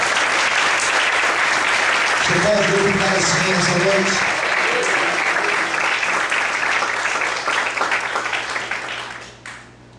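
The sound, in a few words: church congregation applauding loudly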